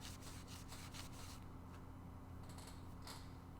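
Sandpaper rubbing a guitar finish in a quick run of short back-and-forth strokes, faint and dry, with a few scattered scrapes afterward.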